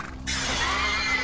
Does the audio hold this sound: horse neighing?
yes